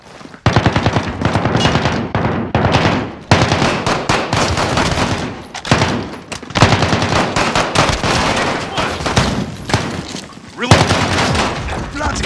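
Rapid machine gun bursts blaze almost nonstop in Call of Duty: Modern Warfare's wave survival mode at the Atlas Superstore, loud and close, with short gaps between volleys and voices shouting over the gunfire.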